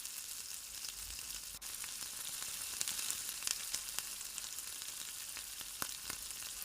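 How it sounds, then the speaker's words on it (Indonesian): Curly chilies sautéing in a pan, a steady close hiss of frying with scattered sharp pops and crackles throughout, no voices. "tumis kembali, hingga cabai matang"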